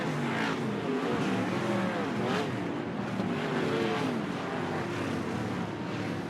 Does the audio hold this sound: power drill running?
no